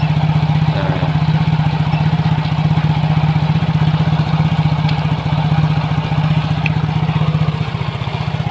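A Yamaha Soul GT motorcycle idles unsteadily, a loud close low putter with a fast even pulse and some mechanical clatter, running alone for about eight seconds.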